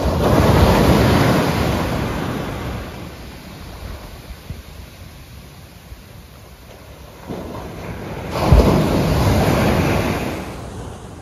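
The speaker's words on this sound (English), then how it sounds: "I hope you can hear me because the sea is really noisy." Sea waves breaking on the beach at Cayton Bay, a loud, continuous rushing surf that swells, eases off mid-way and surges again, with wind buffeting the microphone.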